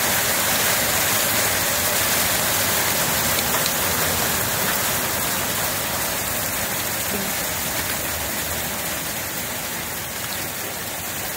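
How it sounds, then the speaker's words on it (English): Steady, dense soft hail turning to rain, pattering hard on a pergola, a constant close wash of drops with no pauses. "It's a really soft hail. It's just starting to turn back into rain."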